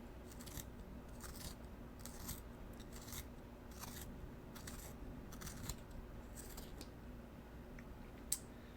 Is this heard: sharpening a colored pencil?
yes